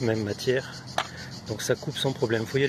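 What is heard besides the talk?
No everyday noises stand out.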